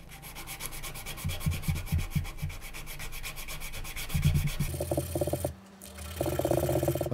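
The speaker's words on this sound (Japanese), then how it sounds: "削るのは鉄ヤスリ使いますね。" A steel file rasping down a ukulele saddle in quick back-and-forth strokes, close and loud, with a rhythmic scraping texture followed by a brief pause and a few louder strokes.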